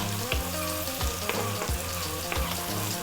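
Onion and chopped garlic, seasoned with salt and black pepper, fry briskly in a pan over above-medium heat, giving a steady, lively sizzle up close without speech.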